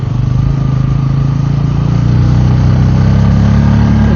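A Bajaj Pulsar N160 motorcycle engine drones loud and close as the bike accelerates along a highway, the steady engine note mixed with wind rush throughout.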